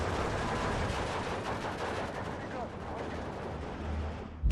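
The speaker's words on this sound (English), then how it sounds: "It's always fun to watch these bombing strikes." Bombing strike in the WW2 strategy game Steel Division 2, a dense sustained rumble of overlapping explosions and crackling gunfire, steady and loud for several seconds, ending with a sharp burst.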